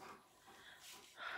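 An old Pyrenean mountain dog lying close by breathes heavily in slow, snuffling rasps, with a louder snort-like exhale near the end, soft and intimate with no talking.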